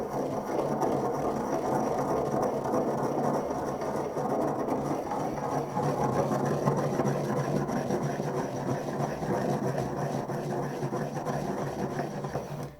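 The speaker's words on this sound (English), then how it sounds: "I have a mortar and pestle, and I've put the pink Himalayan salt in there. I'm just going to give it a good grind down." Pink Himalayan salt being ground fine in a mortar and pestle: a continuous, close gritty rasping and scraping that runs steadily without pause.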